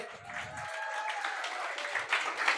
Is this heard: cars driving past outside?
no